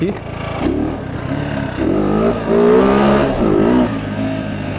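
A motorcycle engine revving hard, loud and close, with throttle blips rising and falling over a few seconds of steady engine drone.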